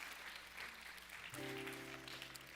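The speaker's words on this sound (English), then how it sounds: "One more round of applause for these two beautiful souls." Audience applause at a live performance fills the room as a steady wash of clapping, with sustained musical tones joining partway through.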